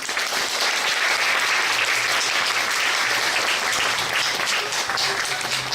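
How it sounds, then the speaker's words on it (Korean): Theatre audience applauding the actors at the close of a post-show talk for the play Orphans, a dense, steady clapping from a large crowd that fills the whole stretch at even loudness. "오늘 자리에 함께 해주신 배우 여러분들께 다시 한번 큰 박수 부탁드리겠습니다."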